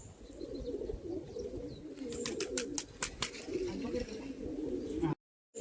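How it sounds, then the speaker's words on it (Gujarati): Pigeons cooing close by, newly bought birds kept at home, soft repeated coos and chirps over a steady low murmur, with people talking nearby. "તો આપણે કબૂતર લઈ આવ્યા"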